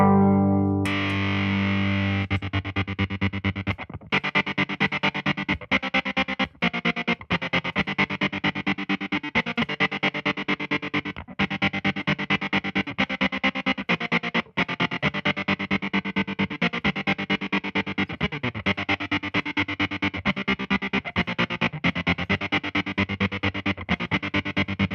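Electric guitar run through an Empress Tremolo 2 pedal set to a square-wave tremolo with almost no dry signal, giving loud, distorted chords chopped into a steady, hard on-off rhythmic pulse that runs throughout with no talking.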